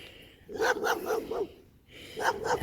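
A dog barks in quick bursts, four or five rhythmic woofs, then a pause and two more, fairly close and clear with no talking over it.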